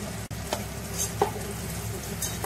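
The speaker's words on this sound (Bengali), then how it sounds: "এবার আমি কচুটা আর আলুটা ভেজে নেব" Taro and potato pieces fry in hot oil with a soft continuous sizzle, broken by a few brief stirring clatters, close but fairly quiet.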